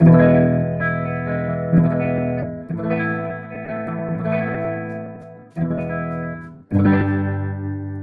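An electric guitar through a Boss GX-10 plays sustained clean chords and notes with a shimmering, chorus-tinged sound, pausing briefly between phrases, with no voices.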